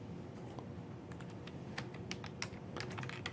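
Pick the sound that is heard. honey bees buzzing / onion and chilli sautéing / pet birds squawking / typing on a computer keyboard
typing on a computer keyboard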